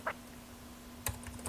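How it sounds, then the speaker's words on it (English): Keys on a computer keyboard are tapped while a name is typed, giving a few soft, separate clicks over a faint steady hum. "Let me delete what's in the text box and type my name"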